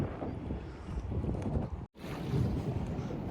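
Wind buffeting a small fishing boat at night on Botany Bay, a steady rushing roar with microphone rumble, a brief dropout near the middle, no speech.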